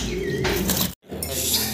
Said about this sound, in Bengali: আমরা দেখতেছি লাক্ষা কবুতর